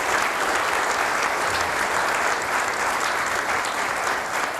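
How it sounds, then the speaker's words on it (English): A roomful of store managers at a company meeting applauds steadily, a dense, even wash of clapping that carries through the whole stretch with no voices over it. "you should probably just go ahead and give yourselves a round of applause"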